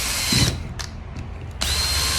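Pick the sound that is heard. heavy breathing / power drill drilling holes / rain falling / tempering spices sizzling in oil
power drill drilling holes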